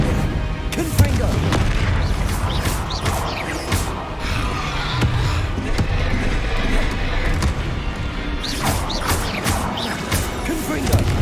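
Repeated booming blasts of the Confringo fire spell in Hogwarts Legacy, crashing in rapid succession amid a chaotic duel, loud and close with overlapping impacts and a shouting voice.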